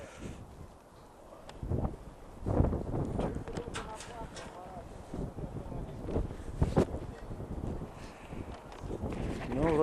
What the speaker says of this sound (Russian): Да, погода совсем испортилась, поднялся ветер.